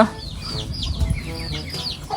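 A native hen clucks in a few soft, short bursts near a kitchen or yard, with faint chatter of other fowl and low background rumble.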